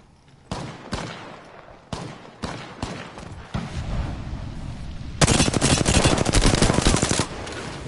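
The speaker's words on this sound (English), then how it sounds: "Shots fired and they're hitting me." Gunfire in the Apex Legends battle royale game: several sharp separate shots at first, then denser bursts, building into sustained rapid automatic fire that stays loud and close to the end.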